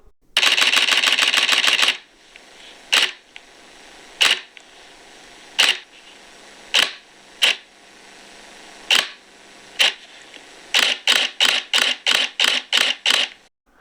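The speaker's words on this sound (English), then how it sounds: "the sound of the shutters from an SLR camera" An SLR camera shutter fires a rapid burst of clicks, then a run of single sharp clicks spaced a second or so apart, and ends with a quick volley of crisp shots, loud and close with no talk.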